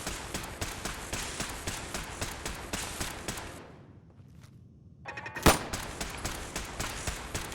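Rapid Glock pistol fire from a Fallout 4 weapon mod, a dense run of sharp shots that breaks off into near silence before a loud single crack restarts the steady gunfire.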